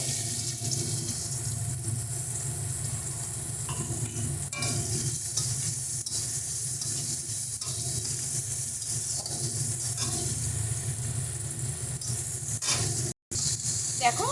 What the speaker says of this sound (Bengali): পেঁয়াজটা হালকা ভেজে নিচ্ছি